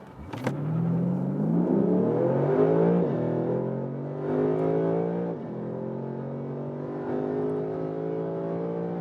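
A Lexus RC F Carbon with its 5.0-litre 480 hp V8 accelerates hard from inside the car, engine note climbing through the revs with two clear upshifts, loud and sustained with no talking.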